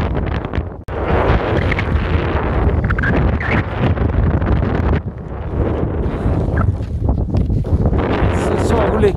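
Strong wind roars across a Swedish mountain fell during an extreme storm, buffeting the microphone loudly and almost without pause, with only one brief lull near the start.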